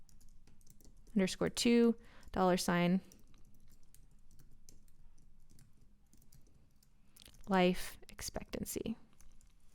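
Keys rattle in quick bursts on a computer keyboard while someone speaks quietly in between and over the clatter, and the typing runs faintly in the pauses.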